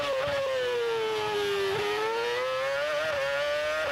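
A 2006 Formula One car engine at the Australian Grand Prix screams near 19,000 RPM, a loud sustained high-pitched whine whose pitch dips and climbs with gear changes, heard from onboard.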